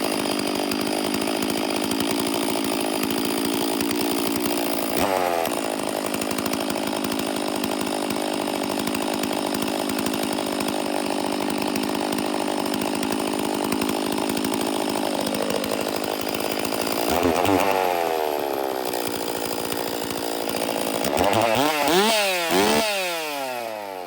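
A STIHL chainsaw fitted with an upgraded muffler runs steadily at a loud, close idle-to-mid throttle, then revs up sharply several times near the end with rising and falling engine whine.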